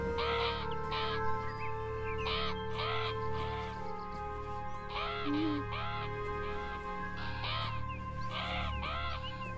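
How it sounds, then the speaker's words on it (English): Crows in the video game Beyond Eyes give repeated, loud, harsh caws in short clustered bursts over a steady tonal drone. "Or dickhead crow after dickhead crow."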